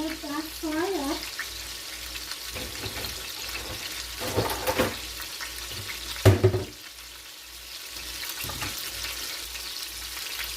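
Chicken sears in a pan with a steady broad sizzle and frying crackle, briefly broken by louder clatter and handling noises midway, with a voice heard near the start.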